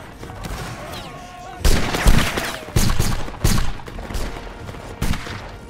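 Musket volleys crackle through a Napoleonic-era video game battle with skirmishers, several loud ragged bursts of gunfire spaced a second or so apart over a steady battlefield din, with a voice talking faintly underneath.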